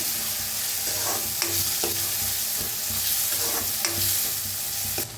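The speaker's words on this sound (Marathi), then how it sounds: "आता त्याच्यात टाकूया एक अर्धा चमचा हळद चांगलं भाजून घेऊया" Chopped tomatoes and half a spoon of turmeric roast in a hot pan for a potato usal, a dense continuous sizzle with light stirring scrapes and small pops throughout, close and steady.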